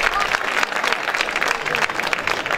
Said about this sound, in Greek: Ένα μεγάλο χειροκράτημα